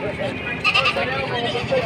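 A native goat at a Batangas livestock sale gives a short bleat close by, heard under people talking.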